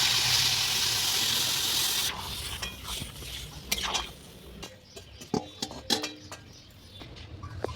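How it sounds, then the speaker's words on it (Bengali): Fried spices are ground into a paste with rough, gritty rubbing strokes that come in uneven bursts, close by. A louder hissing wash of noise fills the first couple of seconds before the grinding. "এখন আমি ভেজে রাখা মশলাগুলো বেটে নেবো"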